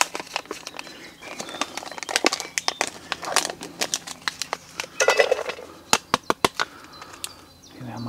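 Tin of Happy Puppy dog food with bacon cubes being opened by hand, a string of sharp metallic clicks, scrapes and crinkles up close, several crisp snaps near the end, with no talk.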